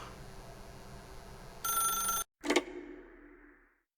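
Old-fashioned telephone bell ringing in the video game The Stanley Parable, a loud metallic ring lasting under a second, then a sharp clack as the receiver is picked up, fading away.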